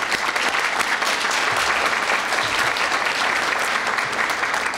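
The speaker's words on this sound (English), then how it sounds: "Let's give them a round of applause." An audience at a poster competition ceremony applauds, with steady, dense clapping that holds at an even level throughout, without talk.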